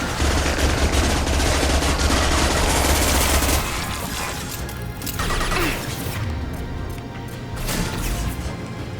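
Dense, continuous gunfire rattles in the video game Mass Effect 2, loud and sustained for several seconds before easing into rougher bursts and impact noises.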